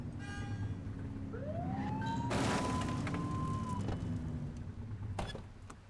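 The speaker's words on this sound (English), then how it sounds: "Get behind them and flip the siren to make them pull over." A police car siren wails in the video game The Precinct, one rising and sustained tone over a loud engine and street rumble, fairly near and steady.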